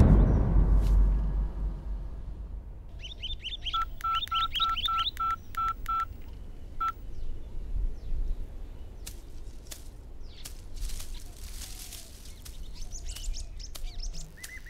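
A telephone is dialled in a Bangla-dubbed South Indian thriller action film: a quick, even run of about seven or eight clear keypad tones, preceded by brief chirping electronic beeps, over a steady low background rumble with no talking.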